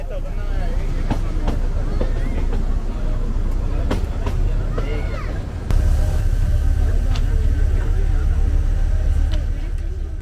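A Kangra Valley Railway passenger train on the Pathankot to Baijnath Paprola line rumbles along steadily with a loud, continuous roar and occasional clanks, and the noise swells partway through.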